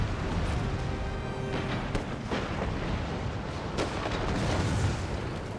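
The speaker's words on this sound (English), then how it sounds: "Howitzers actually are firing on these units right now with explosive shells" Howitzers firing explosive shells in an American Revolution battle video game, a dense barrage of rumbling booms with several sharp cracks breaking through around two and four seconds, continuous and loud.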